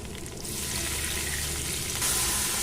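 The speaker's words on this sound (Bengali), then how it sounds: "সামান্য একটু জল দিয়ে খুব ভালো করে কষাচ্ছি" Spice paste of ground cashew, melon seeds and tomato sizzles steadily as it is sautéed with a splash of water in a pan, a continuous close hiss that swells slightly louder near the end, with no talking.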